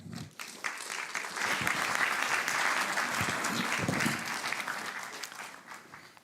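A lecture hall audience breaks into warm, sustained applause for the speaker taking the stage, a dense wash of clapping that swells after a second and tapers off toward the end.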